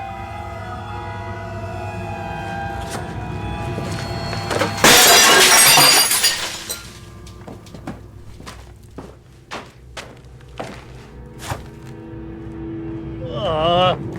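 Window glass shattering in a horror movie as someone jumps out, a loud sudden crash of breaking glass after a low rumbling build, followed by scattered tinkling shards and thuds.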